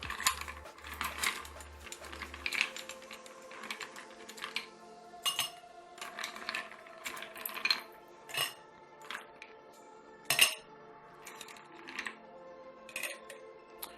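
Ice cubes dropped one at a time into a mojito glass, each landing as a sharp clink or rattle, scattered irregularly over a quiet background with a few small knocks between them.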